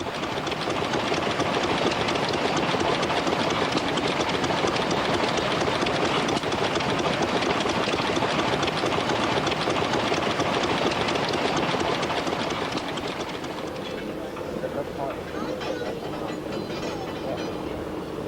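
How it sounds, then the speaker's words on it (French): Stationary steam engines run with a dense, steady mechanical clatter and chugging that fills the air loudly and continuously, then thins to a quieter rhythmic ticking near the end. "écouter la mélodie de ces moteurs fixes"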